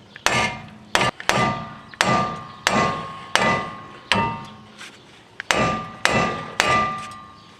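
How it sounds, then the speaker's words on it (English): A large hammer rings out against a steel tie rod end on a Chevy Aveo during front wheel bearing replacement, about ten sharp strikes in a steady rhythm, each with a brief metallic ring, close and loud with no talking. "I'm using a slightly large hammer"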